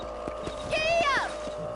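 Horse hooves clatter in a quick, steady rhythm in the video game Red Dead Redemption, with a brief rising whinny-like cry in the middle and a voice over the hoofbeats.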